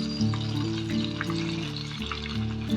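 Chicken 65 pieces deep-frying in hot oil until golden, giving a steady close bubbling sizzle with a low hum underneath, no voices.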